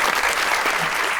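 A studio audience on a Pakistani television talk show claps in sustained, dense applause, close and even throughout, with no speech over it.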